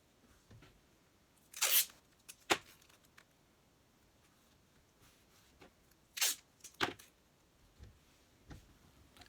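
Tape torn off a roll for an in-the-hoop machine-embroidered double-zipper bag: two close, crisp ripping bursts several seconds apart, with faint handling rustles between.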